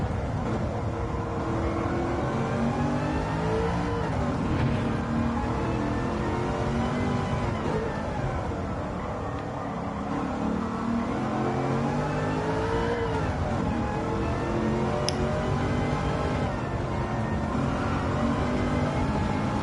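Racing cars lapping the Nordschleife in a racing video game: a continuous loud engine drone that rises and falls with shifting revs through the corners, with no talk.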